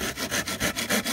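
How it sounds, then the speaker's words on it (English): Tenon saw cutting through a wooden dowel rod, steady back-and-forth rasping strokes in an even rhythm, close and fairly loud. "So I can cut that now with a tenon saw very carefully"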